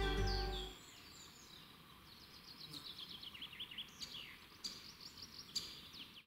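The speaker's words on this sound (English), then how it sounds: "but it's a voice of woodpecker." Single squeak calls of a great spotted woodpecker sound a few times among many other chirping birds in a woodland, faint and mid-distance, with a low rumble at the very start.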